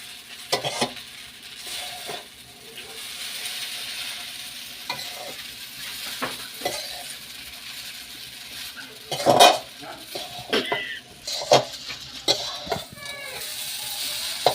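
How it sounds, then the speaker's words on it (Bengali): Chowmein noodles are stirred into fried tomato in a frying pan, irregular scrapes and metallic clinks of a utensil against the pan over a low sizzle, close by, with faint background noise and no clear talk. "টমেটোটা ফ্রাই হয়ে গেছে এখন আমি চাউমিনটা ঢেলে দিচ্ছি চাউমিনটা একটু নাড়িয়ে নিলাম"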